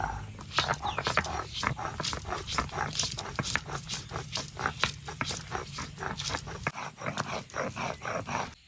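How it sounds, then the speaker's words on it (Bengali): Ginger and garlic ground by hand on a stone slab: repeated rough scraping strokes in a steady back-and-forth rhythm, close and moderately loud, with no talk over them. "আদা রসুনটা ছোলা হয়ে গেছে, পাটার উপরে নিয়ে নিয়েছি, এখন বেটে নেব।"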